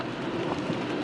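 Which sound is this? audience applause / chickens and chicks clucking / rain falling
rain falling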